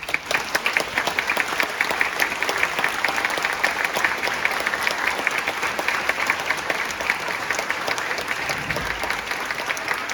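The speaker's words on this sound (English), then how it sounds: "Give them a round of applause." An audience in a school concert hall applauds 8th grade orchestra students with sustained, dense clapping that stays fairly even for about ten seconds.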